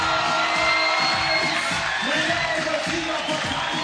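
A packed arena crowd cheers and whoops at a women's FIBA 3x3 basketball game, a loud, sustained roar of many voices with individual shouts rising above it throughout.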